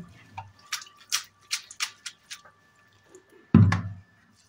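Boiled noodles for chowmein are rinsed under cold water in a kitchen, heard as a series of separate splashes and drips followed by one louder gush of pouring water near the end.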